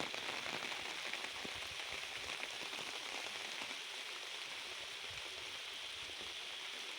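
Heavy rain falling steadily on surfaces in a village, a constant even hiss that stays soft and distant throughout, no voices.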